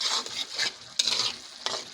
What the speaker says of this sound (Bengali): এখন শুটকিটা ভালো করে কষায় নেব